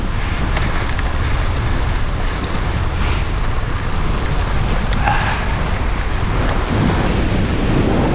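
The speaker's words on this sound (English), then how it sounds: "Really fierce headwind" Fierce headwind roars across the microphone while a cyclist descends toward Selby Bridge, a loud, constant buffeting rush of wind noise that fills the whole clip with no clear speech.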